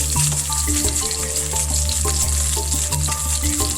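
A steak seasoned with salt, pepper and garlic powder fries in a hot pan, giving a steady, loud sizzle throughout with occasional brief clinks and scrapes, close up and without speech.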